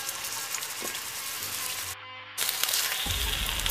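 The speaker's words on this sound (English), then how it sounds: "once it's heated up, fry the fish pieces" Fish pieces frying in hot oil in a wok for spicy garlic sauce, a loud, steady crackling sizzle that briefly drops away, then returns bright and dense as the pieces hit the oil.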